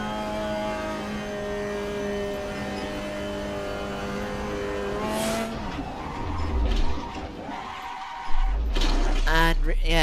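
A Mazda MX-5 Cup race car in a racing video game on the Nürburgring Nordschleife steps its rear out: a steady engine drone gives way to rough, scrabbling tyre noise, then a sudden loud burst near the end, with a voice talking over it.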